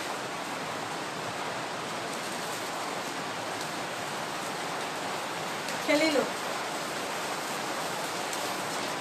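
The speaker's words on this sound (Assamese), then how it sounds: "কাৰণ বৰষুণ পৰি আছে" Rain falls outside as a soft, steady hiss that runs evenly throughout, with someone briefly speaking once partway through.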